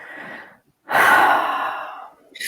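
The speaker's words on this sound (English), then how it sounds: "Take a big deep breath in." A big, deliberate inhale drawn in slowly during a calming tapping exercise, a long airy breath swelling for over a second before fading, with a brief breathy onset just before and another starting at the end.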